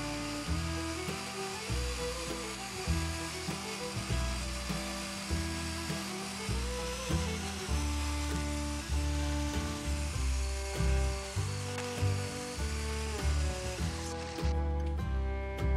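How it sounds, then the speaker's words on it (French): A circular saw cuts into a green oak log, a loud sustained high whine with rhythmic dips in pitch as the blade bites and slows in the wet wood, running continuously near the listener. "on trace nos lignes de coupe, puis on utilise la scie circulaire"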